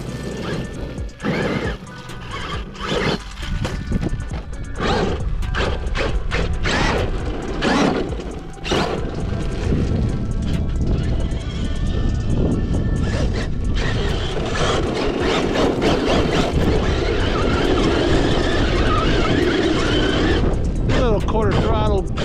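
An HPI Baja 5T converted to 8S electric power doing quarter-throttle donuts, with a continuous whining motor and drivetrain, dirt scuffing and gear noise from close by under occasional talk.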